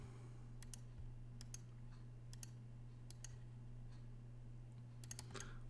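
Computer mouse clicks made while working in Planswift estimating software, a string of faint, sharp ticks in small clusters at an irregular pace over a steady low electrical hum.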